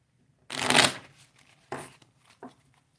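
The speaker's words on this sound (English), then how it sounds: "now we get to shuffle the cards" A deck of playing cards that includes jokers is shuffled during a tabletop card game, giving one long riffling burst followed by two shorter shuffling bursts, close and fairly loud, with no talking.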